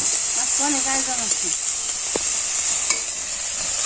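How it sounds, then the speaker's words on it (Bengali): Onion, turmeric and chili sauté in a pan with a bright hissing sizzle throughout, while a voice speaks briefly over it near the start and a couple of sharp clinks cut through. "এটা কি দিলা পেঁয়াজ হলুদ মরিচ দিয়ে কষে জানছে"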